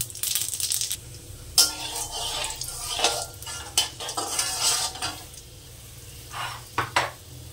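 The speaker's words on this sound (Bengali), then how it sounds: "এবার ফোড়নে দিলাম 5 ফোড়ন।" Panch phoron whole spices dropped into very hot mustard oil in a wok, with bursts of crackling sizzle and metal utensil clatter and stirring scrapes close by, no talking.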